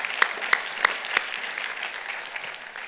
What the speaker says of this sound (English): yep, that deserves an applause.